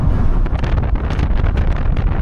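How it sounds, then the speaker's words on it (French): Strong outdoor wind buffets a camera microphone in a steady, loud roar with low rumbling gusts that carry through the whole stretch, and no voices are heard. "Il y a du vent là."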